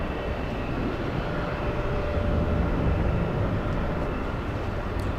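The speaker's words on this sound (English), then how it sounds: "So we do have a takeoff. Let's see, it's an E175." Embraer E175 airliner taking off at a distance, a broad continuous roar of jet engines holding steady and slightly swelling, with no talk.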